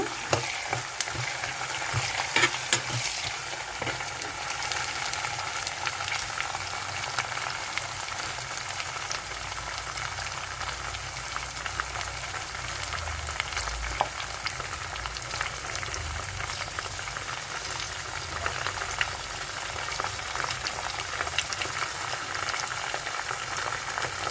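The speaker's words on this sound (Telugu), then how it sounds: "పోపులు వేపునాయి కదండి" Continuous crackling sizzle of tempering spices with dried red chillies, green chillies and curry leaves frying in hot oil for lemon rice, close up, with bursts of popping and no voices.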